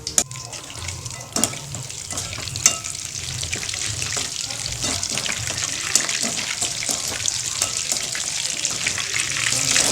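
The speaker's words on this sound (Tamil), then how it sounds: "இதை எண்ணெயில் பொரிச்சு எடுக்கலாம்." Chicken popcorn pieces deep-frying in hot oil over a low flame, a steady close crackling sizzle throughout with occasional sharper pops, swelling slightly louder toward the end.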